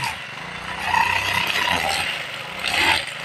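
A grass cutter with a root-cutter blade chops through thick weeds in a farm field of newly planted eggplant, its steady motor whine swelling briefly twice as it bites into the growth, close and alone.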